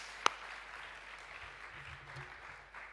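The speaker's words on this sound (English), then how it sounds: "A round of applause for Mariam" Applause for a speaker named Mariam at the AfriLabs Annual Gathering 2021, a faint, steady patter of clapping from an audience, opened by one sharp louder clap and continuing evenly for a few seconds.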